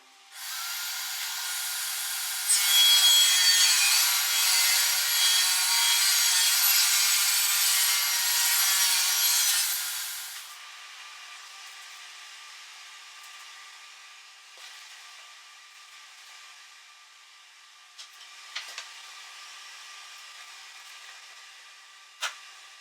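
A table saw rips a maple board along the fence for a walnut and maple changing table, a loud steady whine lasting several seconds that then cuts off, leaving a quieter shop with a few faint clicks and knocks.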